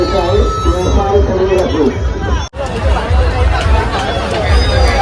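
A dense crowd murmurs at the Bomblya Vithoba fair in Sajgaon, Khopoli: continuous loud babble of many voices close by, with occasional nearer speech over a steady outdoor hubbub.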